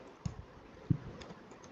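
Typing C code on a computer keyboard: a few sparse, close keystroke clicks, with two sharper taps standing out among lighter ones, and no voice.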